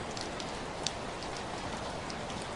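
Steady rain falling, a dense even hiss of drops with a few sharper individual splashes, moderately quiet and continuous with no voices.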